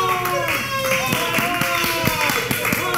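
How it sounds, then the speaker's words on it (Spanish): Applause for the governor at a press event, rapid irregular hand claps layered over a steady background, with a voice speaking through the clapping. "Un aplauso para ella."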